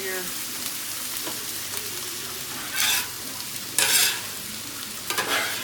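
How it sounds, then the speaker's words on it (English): Hash browns sizzle steadily on a hot 36-inch Blackstone griddle, a constant hiss with a few louder spitting bursts as water hits the surface, close up. "And while it's sizzling, it's still cooking. I like that sound."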